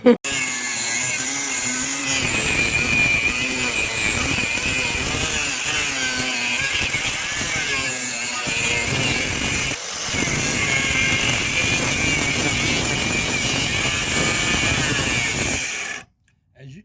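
An angle grinder's cut-off wheel slices through a steel crossmember on a 1967 Mustang coupe, a loud, continuous abrasive whine that runs steadily for about fifteen seconds, dips briefly midway, then stops abruptly near the end.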